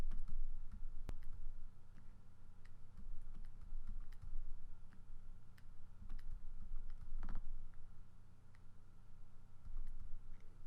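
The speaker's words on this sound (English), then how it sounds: "So hold down Control and click." Mouse clicks select layers in drawing software, a scattering of soft, sparse clicks over a steady low hum, close but quiet.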